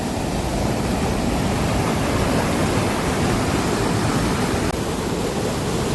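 Floodwater from a flooded river pours over a weir beside sugarcane fields in a loud, steady roar of rushing water, unbroken and close, with no voices.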